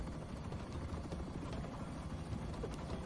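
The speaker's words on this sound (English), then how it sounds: "It's my helicopter." Helicopter in a video game, a steady low rotor thrum with rapid chopping pulses holding at an even level throughout, with no voices over it.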